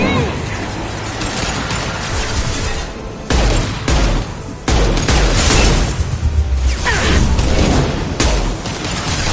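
Grenade blast in the Mass Effect 2 video game, heard as several loud, heavy booms and crashes amid ongoing gunfire and combat noise, with brief dips between the impacts.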